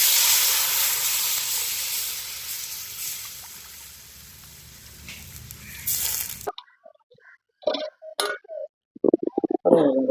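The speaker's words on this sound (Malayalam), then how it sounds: "അതിലേക്ക് ആവശ്യത്തിനുള്ള വെള്ളം ഒഴിച്ചു കൊടുക്കാം." Water poured into a hot fish head curry base with panampuli, hissing and sizzling loudly for about six seconds, then a quiet pause broken by scattered clinks and bubbling bursts near the pan.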